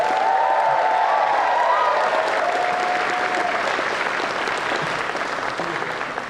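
Audience at the San Japan 16 anime convention closing ceremony applauding and cheering for the event staff, a dense, sustained wash of clapping with some whoops, slowly tapering.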